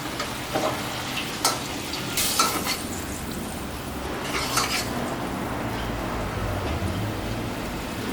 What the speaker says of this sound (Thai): ผัดขึ้นช่ายนะครับ ลงไป แล้วก็พริกลงไปเลย